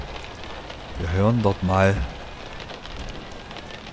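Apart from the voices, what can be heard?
rain in video game Euro Truck Simulator 2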